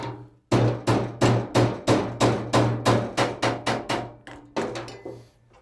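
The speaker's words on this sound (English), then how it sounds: "to get a nice sharp bend, I'm going to use a hammer to tap it down" A hammer taps a bend in metal into a sharp 90-degree angle in a quick, even series of about fifteen sharp strikes, close and ringing, with a brief pause before a few final blows.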